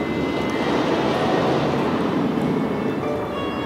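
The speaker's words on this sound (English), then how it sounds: "Is that also a helicopter?" A loud, steady engine roar from a helicopter flying overhead at an amusement park drones throughout without a break, a heavy rumbling noise close overhead.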